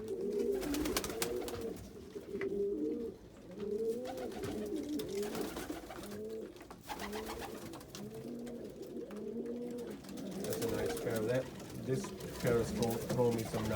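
Crested pigeons busy building nests give deep, rhythmic cooing calls, repeated in steady bursts close by in an aviary.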